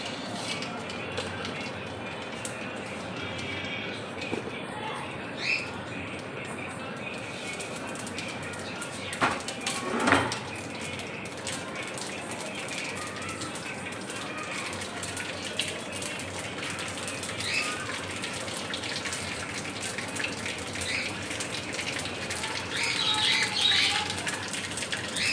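Black mustard seeds fry in plenty of hot oil for a Bengali hilsa dish, making a steady crackling sizzle with scattered pops that grows a little louder toward the end.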